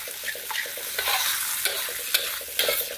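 Rice vermicelli stir-fried in a pan with sweet soy sauce, giving a steady close sizzle with rhythmic scraping and stirring strokes throughout.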